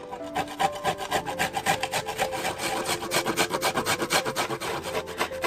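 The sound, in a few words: grating fresh ginger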